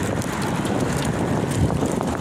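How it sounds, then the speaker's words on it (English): Steady wind buffeting a microphone, a continuous low rumble with gusty swells throughout and no voices. "It's very windy"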